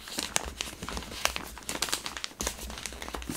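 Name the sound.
opening a new packet of makeup wipes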